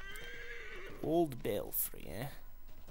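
A horse in Assassin's Creed 3 gives a loud whinny, then snorts and neighs again amid faint clip-clopping hooves, while someone talks over the game sound.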